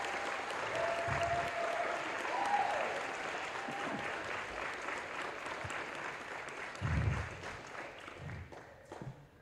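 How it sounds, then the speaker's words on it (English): A graduation ceremony audience applauding, a sustained round of clapping from a large crowd that swells and eases over several seconds, heard alone without speech. "show them appreciation by giving them a round of applause"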